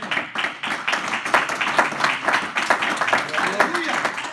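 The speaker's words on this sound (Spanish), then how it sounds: "¿Cuánto damos un fuerte aplauso al Señor?" A church congregation breaks into steady, sustained hand clapping during a worship service, a dense wash of many hands filling the whole stretch at moderate volume, with a few voices mixed into the crowd.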